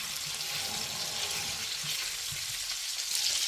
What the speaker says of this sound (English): I'm going to use the sausage oil for sauteing my vegetables.